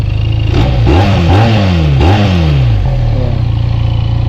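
A motorcycle engine revs several times in quick blips, pitch rising and falling sharply, before settling into a steady, throaty idle close by.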